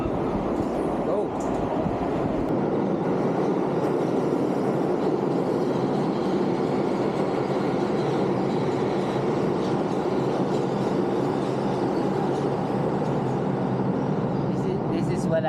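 A New York subway train rolls steadily along the track with a continuous loud rumble and faint clatter, while people talk over it.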